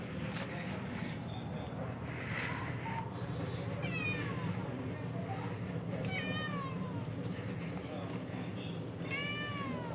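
An indoor cat meows three times, each a drawn-out, rising-and-falling call spaced a few seconds apart, over a low steady room hum.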